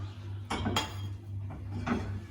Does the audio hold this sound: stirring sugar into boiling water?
yes